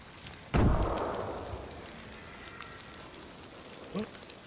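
A single far-off explosion in DayZ, a dull boom that rolls and fades over a couple of seconds amid rainy ambient noise, followed later by a faint short sound.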